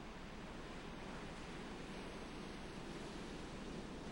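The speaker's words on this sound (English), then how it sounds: "The two sides of the surf here are going to start to come together right ahead of us." Ocean surf washing in on a Canadian shore, a steady broadband roar of waves close by with no break and no talk.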